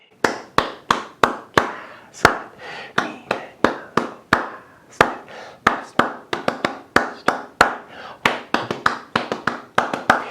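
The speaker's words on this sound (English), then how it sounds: "Let's clap that whole thing again." Hands clap a steady rhythmic pattern for a children's music lesson on rhythm, with crisp, close claps in short grouped bursts that repeat across the whole stretch.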